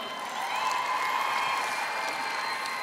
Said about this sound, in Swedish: ge en varm applåd.